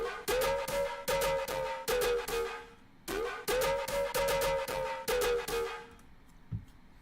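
A bright, buzzy synth patch plays choppy rhythmic chords in short bursts, thin in the low end, with a brief low thump near the end.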